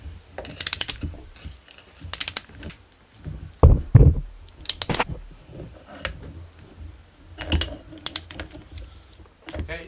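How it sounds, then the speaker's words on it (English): Ratchet tightening parts on a Losi 5ive T kit build, bursts of quick clicking ratchet strokes repeated several times, close and crisp, with knocks and handling noises between bursts. "What I'm going to do now, finish off the rest with my ratchet."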